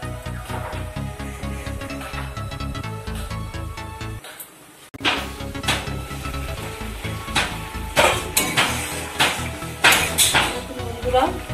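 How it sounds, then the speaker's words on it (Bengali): Eggplant being stirred in a cooking pot for a Bengali hilsa fish curry, with scraping and clinking of a spoon against the pot in irregular bursts, close and fairly loud, under steady kitchen noise and background music. "বেগুনটা দিয়ে একটু নাড়াচাড়া দিয়ে আমি আবার কিছুক্ষণের জন্য ঢেকে রাখবো।"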